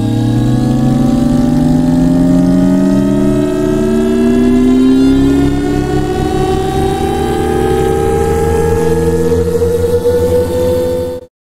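A layered sci-fi car engine effect built with Krotos Igniter hums with strong harmonic tones that sweep steadily upward like a car accelerating, loud and continuous, before cutting off abruptly at the end.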